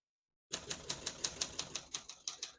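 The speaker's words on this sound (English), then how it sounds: "As you can see, all the keys type nice and none of them skip or stick." Steady, even typing on a 1971 Olympia SM9 portable typewriter, about a dozen crisp key strikes in a regular rhythm, close and alone.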